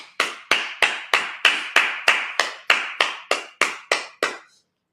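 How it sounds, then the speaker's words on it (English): A congregation at a Sabbath service claps in unison, about thirteen sharp, evenly spaced claps at a steady rhythm, loud and close, ending abruptly with no talking. "Clap it up."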